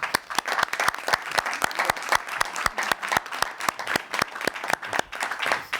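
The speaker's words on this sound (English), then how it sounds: "I'm going to ask for a round of applause for both of you." Audience members at a city council session clap in a sparse, moderately distant round of applause, individual claps distinct and irregular, with no voices over it.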